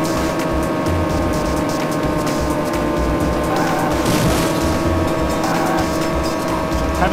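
A car engine drones steadily at close range while cornering in Pimp My Ride: Street Racing on Nintendo DS, its tires squealing through the turns in a loud, unbroken stretch.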